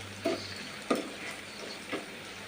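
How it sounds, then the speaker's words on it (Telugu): Spice masala with coriander frying in a pan: a steady soft sizzle with three or four scraping stirs spaced about half a second apart, over a low constant hum. "ఇది గోల్డెన్ బ్రౌన్లోకి వచ్చే వరకు బాగా ఫ్రై చేసుకోవాలి"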